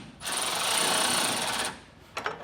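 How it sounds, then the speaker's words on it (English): A power tool whirs for about a second and a half while a 7/16 deep well socket tightens bolts on Firestone Ride-Rite air helper springs on a 2025 Chevrolet truck, then stops, followed by a few light metallic clicks. "I'm going to go ahead and use a 7/16 deep well socket and get these tightened up here."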